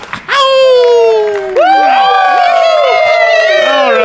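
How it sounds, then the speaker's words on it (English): A crowd cheers and whoops excitedly as a literal wolf man steps onto the stage at a detective convention; loud overlapping voices swell, dip briefly, then surge again and hold. "The crowd erupted with excitement as a man that lived up to the title stepped onto the stage"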